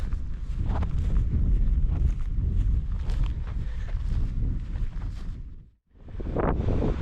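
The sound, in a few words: wind on a hilltop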